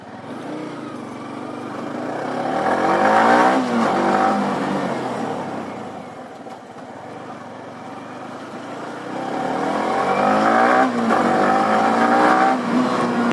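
A modified Yamaha R15 V3 sport motorcycle ridden through a narrow stretch, its engine droning steadily with rising and falling revs, loud and continuous with no voices.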